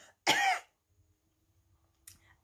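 A single harsh, violent cough is imitated by someone narrator's voice: one loud close burst, then near silence and a faint second breath.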